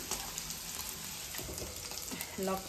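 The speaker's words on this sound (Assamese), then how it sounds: "মাছ ফটফটকৈ ফুটি আছে" Fish fries in a pan with a continuous soft, crackling sizzle that stays faint and steady throughout, with no talking.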